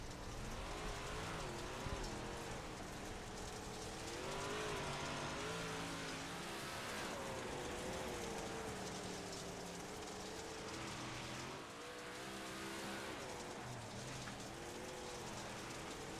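Big block dirt modified race cars in iRacing at Fairbury Speedway, a steady roaring engine drone with rising and falling pitch as the cars lap the dirt oval, loud and continuous with a hissy wash throughout.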